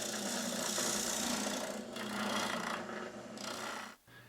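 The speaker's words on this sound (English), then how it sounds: "I use an oscillating spindle sander to smooth each of the bottle notches, as well as to round their front edges." Oscillating spindle sander smoothing and rounding notches cut in a wooden wine gift box part, a steady loud grinding, rasping whir running continuously before easing off and cutting out near the end.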